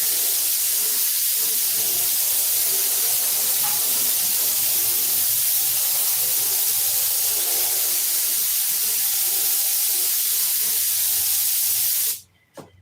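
A spray gun lays down a coat of clear coat paint with a loud, steady hiss that runs almost unbroken, then cuts off abruptly at the end.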